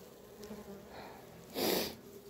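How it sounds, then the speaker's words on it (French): Bees buzz faintly at a beehive while frames are being handled, a thin, steady close drone that swells into one brief louder rush near the end, with no voices. "Il y a des abeilles en bas."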